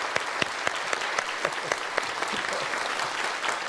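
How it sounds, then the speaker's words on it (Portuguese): A studio audience at a Brazilian music television show bursts into steady, full applause, dense overlapping claps that keep up at an even level throughout without fading. "Aqui eu peço uma salva de palmas e agradeço até"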